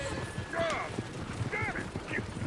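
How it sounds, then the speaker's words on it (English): Horses in the Red Dead Redemption 2 video game clop steadily on the ground with brief whinnies mixed in, heard under people talking. "Oh, shit, the horses!"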